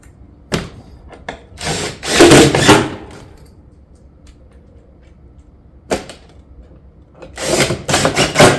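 A power drill drives screws down through a barrel vault tile roof panel in short, loud whirring bursts separated by quiet pauses.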